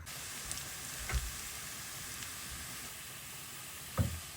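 Onion and garlic sizzle in hot oil as a tempering for dal with bottle gourd, a soft continuous hiss with a couple of faint clicks. No one talks.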